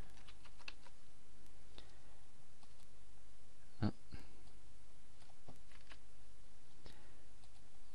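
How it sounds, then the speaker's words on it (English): Keys tap faintly on a computer keyboard as a password is typed, sparse soft clicks scattered across several seconds with one sharper tap midway, quiet and without talk. "And type in my password and click on login"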